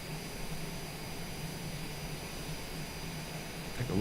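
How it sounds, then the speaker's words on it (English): Twin jet engines of a Cessna Longitude in Microsoft Flight Simulator 2020 run steadily at ground idle, a constant even whine and rumble with faint high tones and no talking. "I think we have a good start on both engine 1 and 2"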